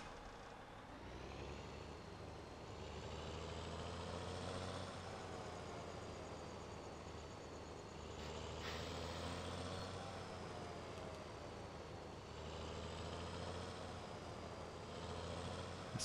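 A farming-game tractor engine rumbles steadily, its pitch rising and falling in slow waves as it revs and settles, with no talking over it.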